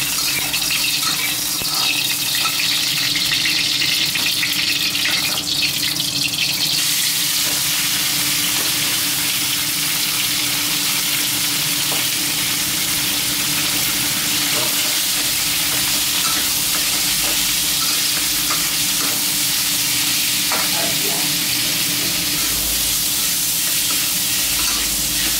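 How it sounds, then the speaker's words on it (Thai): Pork belly fries in lard until crisp, giving a loud, continuous close-up sizzle with steady hissing and faint stirring underneath throughout, and no one talking. "ใส่น้ำมันหมูลงไปนิดหน่อยนะครับหลังจากนั้นก็จะหมูสามชั้นนะครับมาเคี่ยวให้กรอบนะฮะ"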